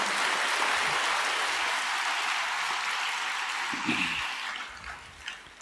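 A church congregation claps together during a sermon, a dense steady patter of many hands that holds level, then thins and tapers toward the end with a few scattered final claps and a low voice or two.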